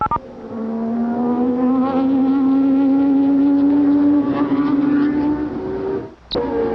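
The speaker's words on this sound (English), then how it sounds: "Waiting for the cars to pull up behind there before the red light comes on" Formula One engines of the 1988 Japanese Grand Prix hum and drone on the starting grid, a loud sustained mechanical tone rising slightly before a sudden cut and a sharp burst near the end.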